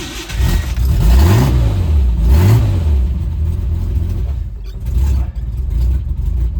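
A 1985 Ford Ranger engine with retarded timing cranks, catches and revs twice in rising swells, then settles into a rough, loud, close idle.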